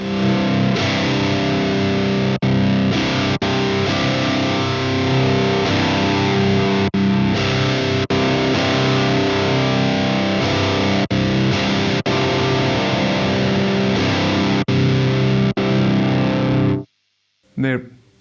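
An electric guitar played through a heavily distorted tube amp turned up loud, a thick, saturated tone ringing continuously for most of the stretch before cutting off abruptly near the end.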